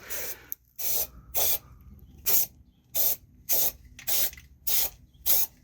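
Rubberized undercoating sprayed onto the rusted underside of a 1994 Ford F150 bed, heard as about eight loud, close hissing bursts, each roughly a third of a second long, separated by short pauses.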